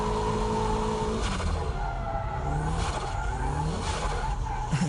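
A car drifts through a wet corner with its engine droning steadily beneath a broad tire hiss and skidding wash, loud and close throughout with no voices.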